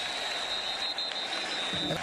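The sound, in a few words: football stadium crowd cheering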